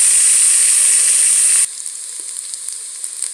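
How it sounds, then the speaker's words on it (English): Pork belly and onions sizzle loudly in a hot pan for onion soup, a bright steady crackle that abruptly drops to a quieter, sparser sizzle partway through, with no talking. "we are going to cook until the pork belly turns brown. And once it's brown, we're going to add all onions"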